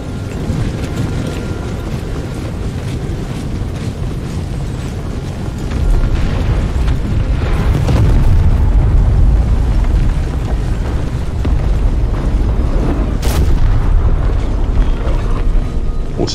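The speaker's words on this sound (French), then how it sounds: "Ah, les Sackers, ces canons qui sont les moins précis de tous." Cannons fire in Empire Total War over a dense, loud battlefield rumble, with booming shots that swell and thicken partway through and a few sharper cracks standing out.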